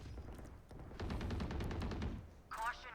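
A rapid burst of automatic gunfire in the game Valorant rattles for about a second amid game sounds, with a voice speaking briefly at the start.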